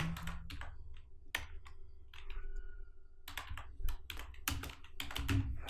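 Fingers type on a computer keyboard while HTML code is written, producing close, crisp key clicks in quick clustered bursts with brief pauses between them.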